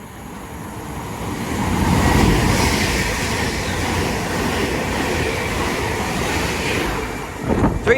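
A British Rail Class 350 electric train passes close by with a loud, sustained rushing rumble and rattling wheel noise that holds steady for several seconds.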